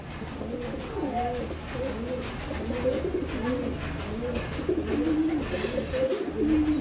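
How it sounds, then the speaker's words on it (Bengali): Green pigeons of the Beldanga, Murshidabad breed coo close by, with repeated soft, rolling calls overlapping in a steady rhythm over a quiet background. "কত অ্যাগ্রেসিভ পায়রা"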